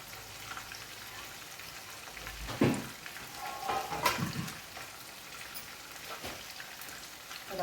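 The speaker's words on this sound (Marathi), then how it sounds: "आता 5 मिनिटं ह्याला कमी गॅसवर तळू द्यायचं असं" Chicken 65 pieces frying in oil on a low gas flame give a steady soft sizzle with faint crackles and a few louder bubbling pops, close and alone with no talk.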